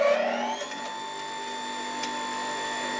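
An Axminster Trade AT200HDG heavy duty bench grinder runs with a steady, fairly quiet motor whine and a tonal hum that holds constant after a brief initial surge.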